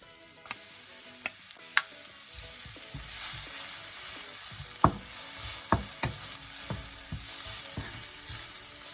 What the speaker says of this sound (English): I'm going to just saute my garlic here.